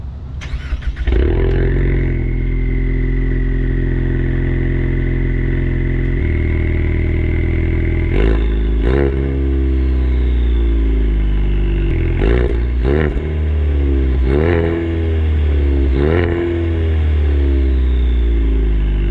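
A 2021 Ford Mustang with the 2.3L High Performance engine and 10-speed gearbox idles, then revs hard, climbing repeatedly with sharp shift breaks between pulls, loud and close.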